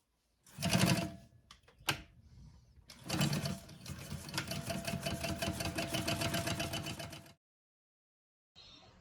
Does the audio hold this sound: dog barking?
no